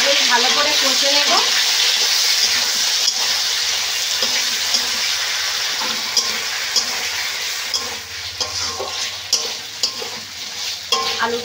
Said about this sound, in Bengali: মশলাটা আবার আলুর সঙ্গে বেশ ভালো করে কষে নেব।